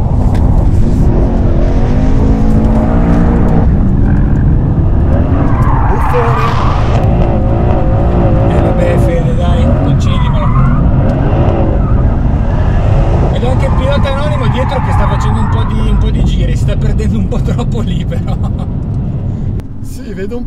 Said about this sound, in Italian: ho fatto 100 metri di traverso bruciando le gomme